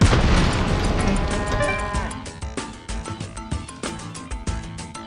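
Grenade explosion in the VR shooter H3VR: one loud, deep boom that rolls off over a couple of seconds, followed by scattered clattering debris and small impacts.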